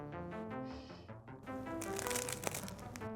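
Crunchy crust of a Neapolitan-style pizza baked without a pizza oven, being cut or bitten into close by, giving crackling, crinkly crunches that grow denser near the end, with no talking.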